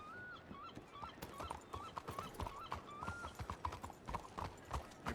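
Horse hooves clip-clop steadily in an old-west roleplay game, a close rhythmic patter of hoofbeats alongside an occasional whinny-like tone and faint background chatter.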